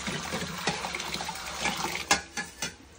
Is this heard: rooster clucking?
no